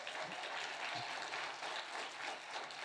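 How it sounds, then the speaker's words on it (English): An audience at a bell hooks symposium in Boston applauds for the event staff, a continuous, even wash of clapping heard from within the room with no talk over it. "Please clap for them."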